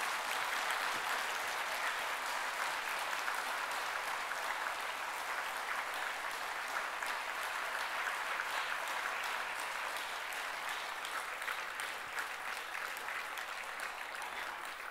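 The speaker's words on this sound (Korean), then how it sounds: "우리 박수로 목사님 환영하겠습니다" A church congregation applauds to welcome the pastor to the pulpit, a sustained, even wall of many hands clapping that continues without a break.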